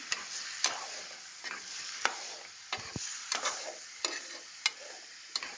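Chicken being stirred in a pan with ginger paste and turmeric for a chicken curry, giving soft, faint sizzling with a series of sharp scraping strokes at irregular intervals, no talking.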